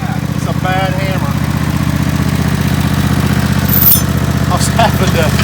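Tractor engine running rough while throttled with the choke worked, a steady low chugging idle with slight surges, close by, with brief voices over it.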